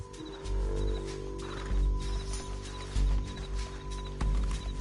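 Horse galloping in the video game Red Dead Redemption 2, with steady rhythmic hoofbeats pounding under a sustained droning game score, moderately loud and continuous throughout.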